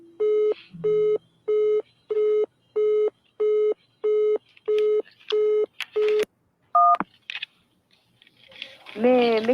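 A phone line left dead after a call dropped beeps out a regular busy signal, about ten evenly spaced tones, followed by clicks, a brief tone and a voice at the end.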